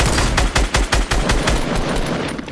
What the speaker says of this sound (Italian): Oh, ci sparano.